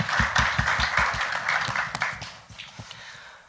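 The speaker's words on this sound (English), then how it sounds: "Can we get a little round of applause for these wonderful people?" An audience at a sports panel discussion in Cyprus gives a short, lively round of clapping that fades toward the end, with scattered claps trailing off.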